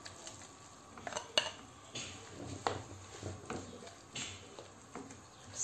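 Pots and utensils clatter while onion goes into a frying pan with a little oil, a sparse run of knocks and scrapes roughly once a second with a faint sizzle beneath, close and fairly quiet, with no talk.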